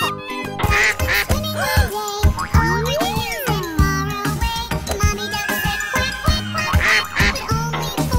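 Repeated high, squeaky duckling quacks over a bouncy tune with tinkling tones, the calls coming in quick bunches throughout.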